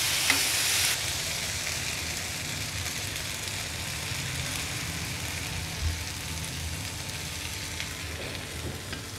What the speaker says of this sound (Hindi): रवा डोसा हल्का हल्का ब्राउन हो रहा है ये पॉइंट पर हम इस पर थोड़ा थोड़ा घी ऐड करेंगे